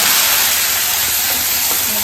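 Ginger, chili and garlic paste sizzles loudly in a hot pan for vada pav, a dense, close, unbroken hiss with a faint stir or two beneath it.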